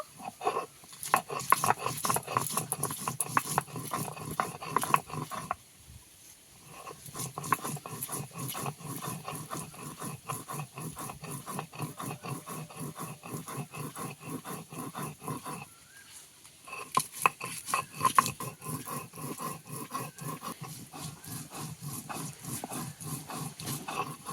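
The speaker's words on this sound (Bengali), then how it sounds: "প্রথমে আমি লঙ্কাটা বেটে নেব।" Chili is ground into spice paste on a stone grinder: rhythmic, gritty scraping strokes repeat close and loud, pausing twice briefly before resuming at the same steady pace.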